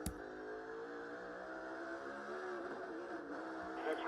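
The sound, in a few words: race car accelerating with odd sound, possible missed shift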